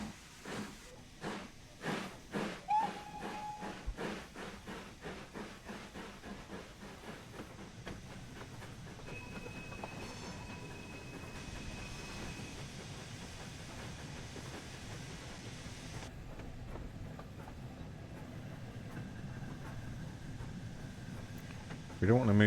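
A Fowler 4F steam locomotive in Train Sim World moves slowly, giving evenly spaced chuffs that fade into a steady hiss and rumble, with a voice talking over it.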